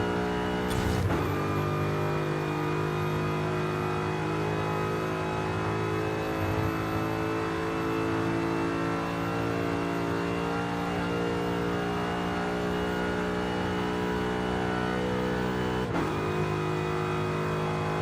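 A car engine in Forza Horizon 5 during a top speed run with an upgraded engine, a loud sustained high engine drone held at speed, with brief shifts in pitch near the start and end, no talk.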